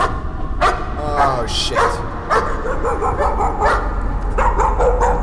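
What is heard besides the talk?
dog barking in the video game Layers of Fear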